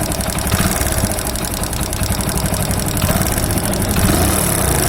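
Engine idling steadily after a timing chain replacement, with a fast, continuous metallic tick-tick running through the loud, close mechanical drone, no voice.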